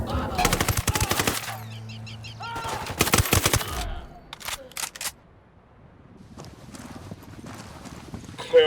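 Rapid bursts of automatic gunfire from the Ghost Recon Wildlands video game crackle loud and close, with a dense volley early, another around the middle, then scattered sharp single shots trailing off.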